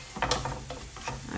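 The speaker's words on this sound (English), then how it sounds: "I'm now gonna be using my whisk just to whisk that in like so." A whisk stirs flour into a sauce in a pan for a short burst of soft, rhythmic scraping and swishing strokes, close and clear over a faint sizzle.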